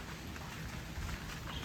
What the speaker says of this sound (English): We're walking in the rain.